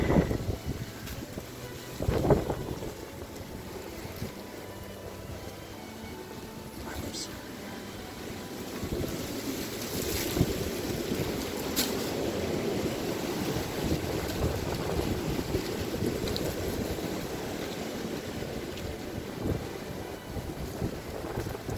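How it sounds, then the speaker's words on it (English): Strong wind buffets the microphone in heavy, uneven gusts, with a low rumbling roar throughout and a few sharp knocks. "Very, very windy day today."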